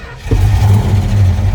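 A 1963 Plymouth Belvedere with a 426 Max Wedge V8, solid lifter camshaft and big carburetors, revs up after a brief quiet start into a loud, sustained low rumble that holds steady close by.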